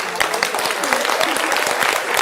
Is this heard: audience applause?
yes